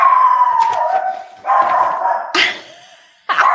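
A guard dog howls in long, wavering calls broken by short pauses, loud and close, with a few yips mixed in.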